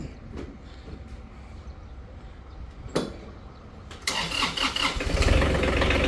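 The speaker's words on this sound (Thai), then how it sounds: "เอาลองสตาร์ทได้ติดไหม ต้องเหยียบคันด้วยนะครับ" A Kubota GL-23 tractor engine cranks over and catches, the start coming after about four seconds as a loud, broadband rumble that keeps running to the end, preceded by clicks and a brief clunk.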